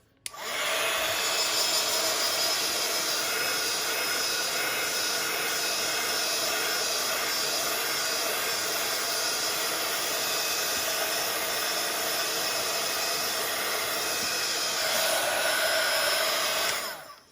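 A hair dryer blows steadily and loudly on a wet, gesso-coated paper tag, a continuous close whoosh of air running for about fifteen seconds before clicking off.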